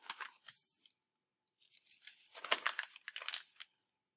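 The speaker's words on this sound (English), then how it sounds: "I could just take the piece of paper and randomly fold it" Notebook paper being handled and folded by hand, with bursts of crisp crinkling and rustling, a short flurry, a pause, then a longer louder stretch of creasing close up.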